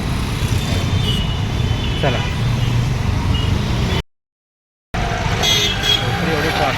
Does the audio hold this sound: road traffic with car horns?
yes